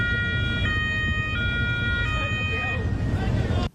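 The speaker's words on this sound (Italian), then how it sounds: "le sirene della polizia locale annuncino il loro imminente arrivo" A local police siren wails in Venice with repeated high alternating tones over a rumbling motor and background noise, then stops abruptly at the end.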